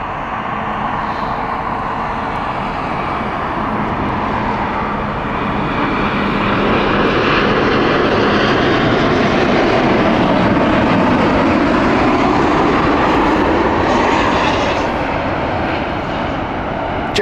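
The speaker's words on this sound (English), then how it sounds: "we have the Etihad flight 787-9 inbound next." An Etihad Boeing 787-9 jet arriving at Heathrow roars steadily and loudly, its broad engine rumble swelling toward the middle and holding strong before easing slightly at the end, with no talk over it.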